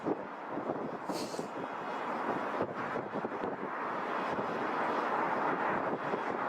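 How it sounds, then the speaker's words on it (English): A British Airways Boeing 787 Dreamliner departs for Durban, heard as a broad, fairly distant jet roar building steadily, mixed with gusty wind buffeting on the microphone. "This is the Durban-bound BA Dreamliner, I think."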